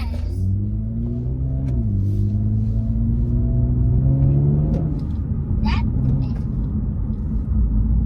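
A Toyota Camry accelerates in a light pull, its engine drone climbing in pitch through gears with a brief shift dip, heard from inside the cabin with a steady low road rumble.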